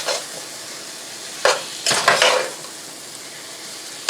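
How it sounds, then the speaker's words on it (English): Smoked sausage for a New Orleans style shrimp and sausage pasta browns in a pan, a soft background sizzle broken by a few brief clinks and scrapes of a utensil against the pan. "So now we're going to add our smoked sausage, and we're going to let that smoked sausage start getting brown."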